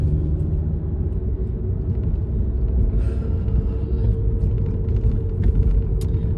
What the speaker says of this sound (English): But I am driving up the canyon right now